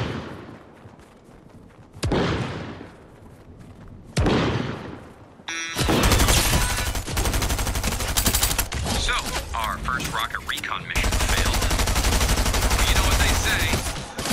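Video-game gunfire including shotgun blasts, starting with a few separate heavy booming shots and then breaking into loud, dense, continuous rapid fire, with voices talking in places.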